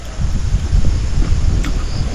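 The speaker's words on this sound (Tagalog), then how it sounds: "Sobrang lakas ang hangin." Strong wind blowing hard outdoors around a house, a loud low rumbling buffet against the microphone with gusting swells and a faint rustle on top.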